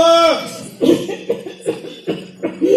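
A voice mimics coughing in a series of short, rough bursts, roughly evenly spaced, close and fairly loud after a brief spoken lead-in.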